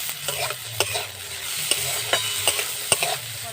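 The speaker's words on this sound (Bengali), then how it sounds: "গাজর পেঁয়াজ সব ভালো করে ভাজা হয়ে গেছে" Carrots and onions stir-fried in a pan with a little oil: a steady close sizzle runs throughout, punctuated by sharp spatula scrapes and taps every half second or so, with no voices.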